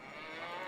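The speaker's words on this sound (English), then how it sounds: "Oh, a cow." Cow lowing in the Baldur's Gate role-playing game, one sustained, fairly faint moo stretching under a hazy ambient background without any talk.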